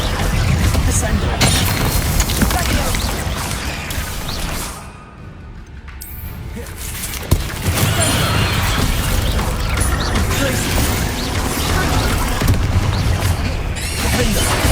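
Magic spell effects in Hogwarts Legacy, including Descendo, with loud mechanical booms, crashes and clanks running almost continuously, a brief quieter dip midway, and a voice speaking over it.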